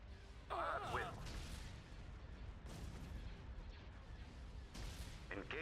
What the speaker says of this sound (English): All batteries commence firing.